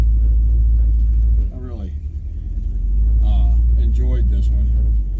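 A 1957 Chevy with an overdrive transmission drives along, its engine a loud, deep rumble that dips briefly then settles back to a steady drone, with someone talking over it.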